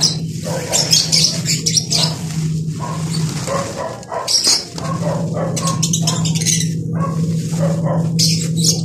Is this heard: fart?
no